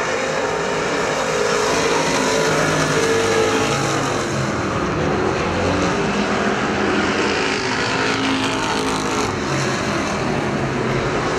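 Street stock race cars roaring around a dirt speedway, a continuous loud engine drone from the pack that swells and shifts as cars pass along the back straightaway, with no talk over it.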